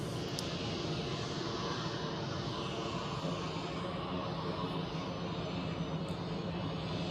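Air Baltic Airbus A320 jet at Zurich Airport in freezing weather, a continuous broadband engine roar holding steady and fairly distant, with no talk over it.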